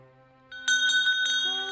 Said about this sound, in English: It has a little bell.